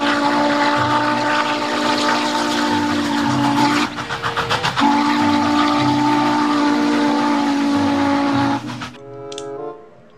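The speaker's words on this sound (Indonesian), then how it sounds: "Di sini ada lokomotif kereta api uap." A toy steam locomotive chugs with a steady low rhythmic puffing, loud and close, then lets out a brief high whistle near the end.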